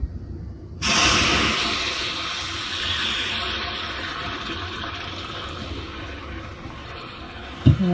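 Milk poured in a steady, splashing stream into a mixed base of flour, butter and oil, close and continuous, ending with a small knock.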